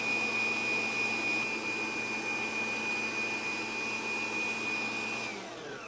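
A stand mixer kneading dough with a dough hook runs as a steady motor whine with a high pitched tone, constant and moderately loud throughout, then winds down slightly at the end, with no talking.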